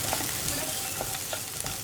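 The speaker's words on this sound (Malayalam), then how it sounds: "ഒരു 2 മിനിറ്റ് സവോള ഒന്ന് വഴറ്റിയെടുക്കാം" Sliced onions sauté in a hot pan while being stirred, making a steady close sizzle with soft scraping stir strokes and no talking.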